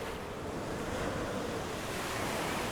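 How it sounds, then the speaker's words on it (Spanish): Ocean surf and strong wind in the Drake Passage form a dense, constant roar of crashing waves with blustery gusts buffeting the microphone. "Lugar de vientos y corrientes, de intercambios de masas de agua y calor, de tormentas y olas que rozan los cielos."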